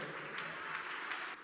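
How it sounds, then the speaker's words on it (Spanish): A church congregation claps for the Lord in a steady, even patter of many hands, continuous and moderately distant across a short moment, with no voices over it. "Den un aplauso al Señor."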